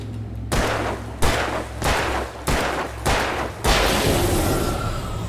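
A handgun fires in the video game Alan Wake Remastered: five sharp, loud shots spaced about half a second apart, each followed by a brief ringing tail.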